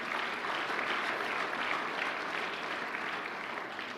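An audience gives sustained applause at a gathering, a dense wash of clapping that holds steady for several seconds, with no one speaking over it.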